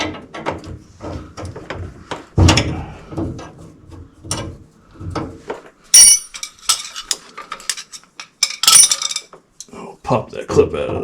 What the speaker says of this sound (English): First thing you want to do is break the jam nut loose.